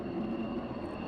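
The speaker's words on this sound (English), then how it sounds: "now we have the others beginning to taxi out" Military jets taxiing out at RAF Lakenheath give off a steady, continuous engine rumble with a sustained whine, holding even in loudness throughout without clear breaks.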